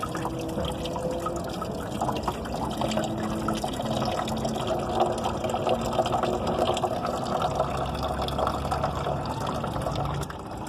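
Rusty water draining from a Suzuki car radiator, a steady close gushing and splashing stream that runs continuously for about ten seconds, with no talk over it.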